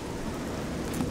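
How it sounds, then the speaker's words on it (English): Steady rain falls in the video game Oblivion, a soft continuous hiss of drops on the ground, even and unbroken, heard briefly and alone. "it's raining"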